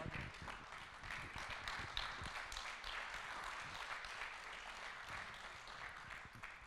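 Steady applause from an audience at a televised Indian tribute event, dense clapping filling the whole stretch at an even level with no talk over it.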